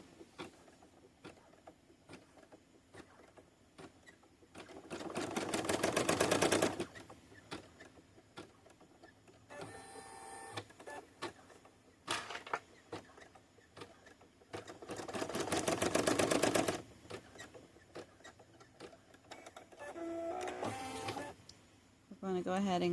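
A home embroidery machine sews short placement lines on an in-the-hoop ID badge project, its rapid mechanical stitching coming in two long loud bursts, with a person talking quietly between them and some handling noise.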